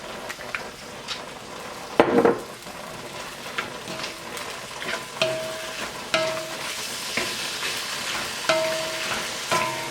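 Chicken and asparagus sizzle steadily in a pan, with occasional spoon clinks and scraping stirs at irregular intervals, moderately close.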